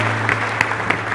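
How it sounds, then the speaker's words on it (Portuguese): Church congregation applauding after a sermon, a dense steady patter of many hands clapping with a few sharper claps standing out, close and moderately loud. "Dá uma salva de palmas para Jesus."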